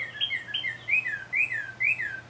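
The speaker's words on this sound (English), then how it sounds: "Listen to that beautiful songbird." A songbird sings close and clear, repeating short downward-sweeping whistled phrases in a steady rhythm over a quiet low hum.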